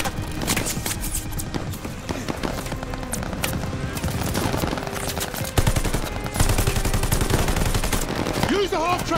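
Machine-gun fire in the World War II shooter Call of Duty: Vanguard, continuous rapid bursts of automatic gunfire layered over a dense battle din, with shouted voices mixed in.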